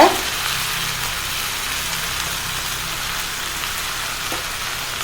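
Mint leaves sizzle steadily in a hot pan while being sautéed for pudina chutney, a continuous close hiss and crackle with no voices.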